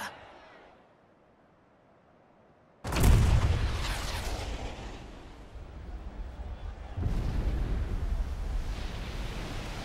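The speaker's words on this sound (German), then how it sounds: "Kam dieser Schuss wirklich? Ja, aus Junons Kanone." After a quiet moment, a huge booming blast from the Junon cannon in Final Fantasy VII Rebirth erupts and rolls away, followed later by a second heavy rumbling surge.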